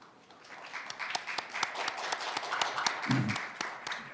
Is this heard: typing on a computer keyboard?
no